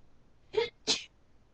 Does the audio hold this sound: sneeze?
yes